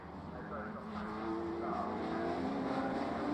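Radical race cars climbing the circuit at Snetterton, a distant rising engine drone that grows steadily louder over the clip, under faint commentary.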